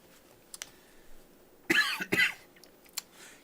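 Two loud, harsh choking coughs close together, preceded by a few faint clicks and breaths in a quiet room.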